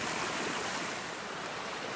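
Creek running high with lots of water, a steady broad rushing wash outdoors, continuous and fairly loud with no voices.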